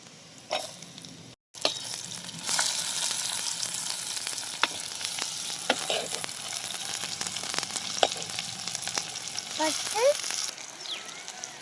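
Tomatoes are dropped into hot oil in a pan at an outdoor village cooking of a crab dish, setting off a continuous close sizzle with utensil clicks and crackles, and brief voices at times.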